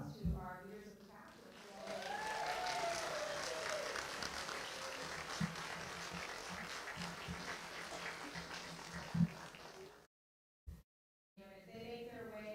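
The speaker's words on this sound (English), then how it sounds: "give a round of applause to our leaders of the pack" Applause at a school district regular board meeting, broad steady clapping that swells after a couple of seconds and holds for several seconds before cutting off, with a few brief bumps and noises near the end.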